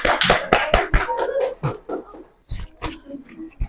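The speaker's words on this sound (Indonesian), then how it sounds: "Kita kasih aplaus." A class applauding, with a burst of hand claps that thins out into scattered, uneven claps and fades away toward the end.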